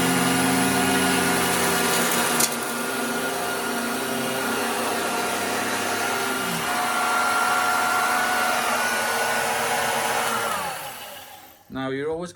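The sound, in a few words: Dirt Devil handheld vacuum cleaner running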